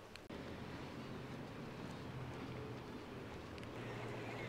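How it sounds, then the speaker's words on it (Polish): A large ferry speeds across the water near Ålesund, Norway, moving like a motorboat: a steady, close rushing roar of engine, hull and wind that holds evenly throughout, with no talking. "Ten prom to się nie szczypie, płynie jak motorówka"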